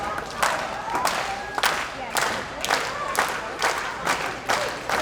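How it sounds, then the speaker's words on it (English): A wrestling crowd at a live match cheers and claps in repeated surging bursts, loud and close, with a commentator talking over the noise. "And the crowd is loving it right now as CoCo is giving him a thrill."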